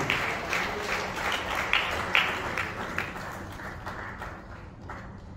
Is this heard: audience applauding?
yes